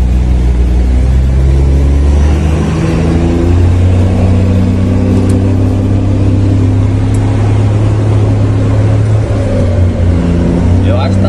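A heavily loaded truck carrying about 20,000 kg of boxed mangoes roars loudly and steadily as its engine pulls hard, rising and falling in pitch between gear changes. The sound is close and continuous.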